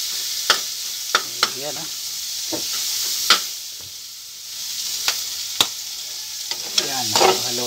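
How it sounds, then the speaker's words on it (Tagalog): Onion and garlic sauté in a pan with a steady frying sizzle, punctuated by sharp scrapes and clinks of a spoon stirring, while a person speaks briefly over it. "Luto-lutoy muna natin yung onion at saka garlic."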